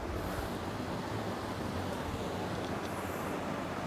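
Media VPH-09C 9000 BTU portable air conditioner running indoors, giving a steady, even whooshing fan noise that fills the whole stretch at moderate loudness with no voices.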